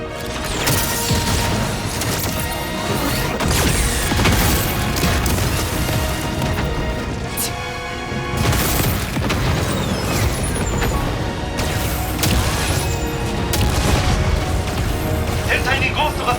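Explosions and mechanical crashes in a battle defending a ship in Xenoblade Chronicles X, loud repeated booms and impacts over a continuous music bed, with voices talking throughout.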